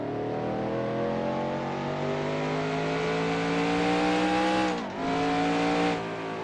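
Race car engines roar in the NASCAR Racing 2003 video game at Bristol, a continuous high, droning note that holds steady, briefly drops as if off the throttle, then picks up again.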